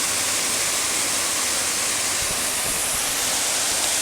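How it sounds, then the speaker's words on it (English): Eas Mor waterfall at High Kildonan in spate roars as a dense, continuous rush of falling water, loud and close and steady throughout, with no voices. "The kind of rush of the water at that bit and the calmness of the water above it."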